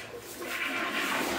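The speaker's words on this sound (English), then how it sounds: "give it a good flush." A household toilet is flushed after cleaning, giving a steady rushing gush of water that swells over a second or so, close by and otherwise alone.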